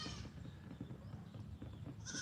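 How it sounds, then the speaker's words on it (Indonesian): Goats bleat in a rural Indonesian village farmyard, a few fairly faint calls heard close by over steady outdoor background noise, with no talking. "mbek ini kehidupan kampung seperti ini teman-teman"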